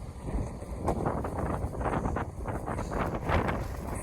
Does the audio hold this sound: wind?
yes